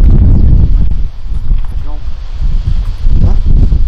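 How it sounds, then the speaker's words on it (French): Strong wind gusts roar against the microphone outdoors at night near an abandoned sanatorium, a steady low rumble with rustling, while a few people talk over it. "Il y a trop de vent."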